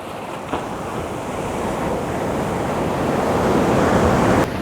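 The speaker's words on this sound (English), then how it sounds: "Tide's nearly right out at the moment, so the waves are receding away further and further" Ocean surf rolls steadily at a beach at low tide as the waves recede, a continuous broad wash of breaking water with some wind rumble, slowly building and then cutting off near the end.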